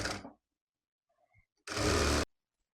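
A sewing machine stitches a baby girl's skirt in a single short burst of steady whirring running about half a second. Brief faint handling noises come before it, with near silence on either side.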